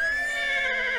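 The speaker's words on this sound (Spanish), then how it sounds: "Relincho." A cartoon horse lets out a loud, close whinny, one continuous shrill neigh that fills the whole moment without other sounds.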